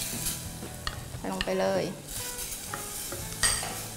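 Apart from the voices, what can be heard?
stir-frying shrimp and squid for green curry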